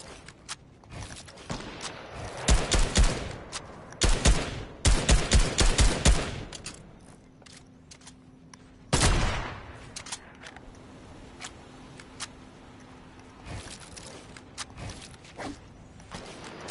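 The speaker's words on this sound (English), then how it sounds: "Someone shotgunned near us." Gunfire crackles nearby in a duos arena video game match, dense bursts of sharp close shots in clusters early on, then a single loud blast followed by scattered lighter cracks and mechanical clicks.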